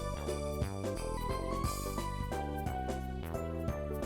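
A wintry tune from the video game Mario Party 3 plays as a steady stream of bright melodic notes over a full backing, moderately loud with no talking.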